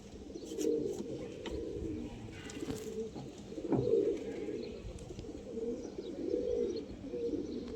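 Pigeons cooing in repeated soft, low phrases nearby, with faint chirps and light background noise.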